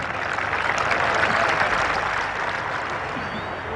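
Golf gallery at the 1984 Open Championship applauding Seve Ballesteros as he walks up the 18th fairway: broad, steady clapping from a large crowd, sustained and even throughout, slightly distant.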